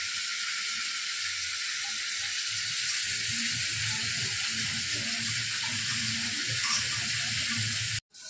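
Tap water runs in a steady hiss while soft clunks and rubbing sounds underneath come from chicken pieces being rinsed in a bowl.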